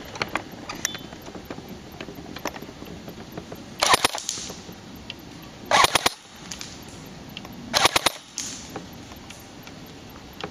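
A G&G M14 airsoft rifle shooting .25 BBs fires three short full-auto bursts, each a rapid crackling string of shots, standing out sharply against a quiet background with longish pauses between them.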